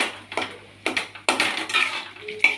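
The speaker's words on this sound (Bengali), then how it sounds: "এই দেখো নাড়িয়ে দিচ্ছি মাঝে মাঝে একটু" A spoon stirs a potato and taro curry in a metal pot, making several separate scraping clinks with short pauses between them. The sounds are close and fairly loud over a low steady hum.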